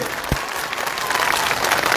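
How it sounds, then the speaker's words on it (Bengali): A crowd at a political rally breaks into a dense burst of clapping that builds and holds steady, loud and continuous. "তার জন্য সবাই মিলে একটা করতালি দেবেন সবাই মিলে"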